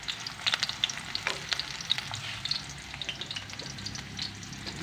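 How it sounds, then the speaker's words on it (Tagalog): Onion, garlic and ginger sautéing in a pan for adobong pusit, continuous close sizzling with bright crackles and repeated soft scraping stirs. "ang bango ng ginisang sibuyas at bawang at luya"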